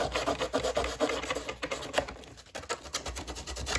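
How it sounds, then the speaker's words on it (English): A carbon fiber canopy edge is worked with 220 grit sandpaper, giving close, quick rhythmic rasping strokes that scratch back and forth steadily, with no voices. "So we're coming back with some 220 grit sandpaper, and we're just gonna carefully work that edge"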